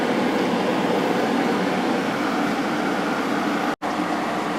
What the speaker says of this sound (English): It's kind of a shame that the fans on these are kind of loud, but they work really well.